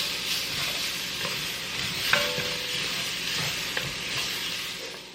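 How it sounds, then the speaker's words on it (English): A spoon stirs tomato paste into a pot of beef stew, making steady soft scraping and a low sizzle with a couple of sharp clinks against the pot. "I'm going to give it a stir"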